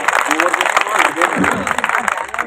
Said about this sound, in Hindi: एक बार जोरदार तालियां बजाकर मुझे बताएं।